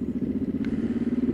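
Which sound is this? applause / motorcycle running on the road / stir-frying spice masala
motorcycle running on the road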